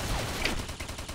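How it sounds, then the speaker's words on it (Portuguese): Gunfire rings out during a forest shootout in a video game, a dense burst of rapid shots filling the short stretch at close range with no talk over it. "Opa, tô atirando amigo."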